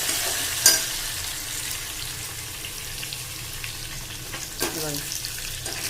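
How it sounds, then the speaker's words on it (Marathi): Grated ginger and garlic with curry leaves sautéing in a pan for spinach dal, a steady soft sizzle with a few clinks of a stirring spoon against the metal, close and alone. "ते टाकून द्यायचं आणि त्याला चांगलं परतायचं"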